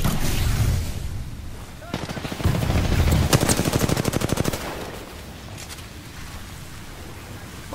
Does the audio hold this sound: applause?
no